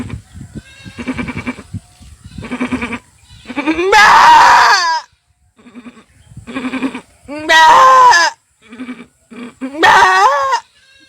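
A voice imitates a goat bleating as a nanny goat does while giving birth: three loud, wavering, strained bleats, each rising then falling, separated by short bursts of his own speech between them.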